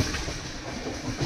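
Metre gauge train on the Mavli–Marwar line in Rajasthan pulling into Rana Pratap Nagar halt, heard as a brief, faint, steady rolling rumble with no voices.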